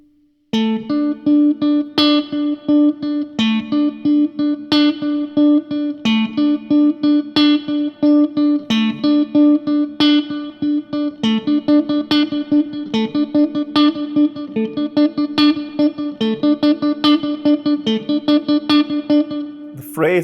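Electric guitar playing a fast, rhythmically accented picked line, crisp repeated notes in a steady driving pattern, loud and clean with no talk over it.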